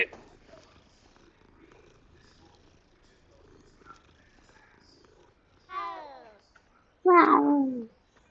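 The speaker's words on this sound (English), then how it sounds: "Get that kitty cat." A cat in a video game gives a soft, short vocal purr or trill, then a louder, rising chirp-like call a moment later, close and clear over quiet background ambience.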